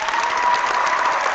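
A crowd claps and cheers for a guest arriving at an interview, a short loud burst of dense applause with a bright, slightly muffled sound.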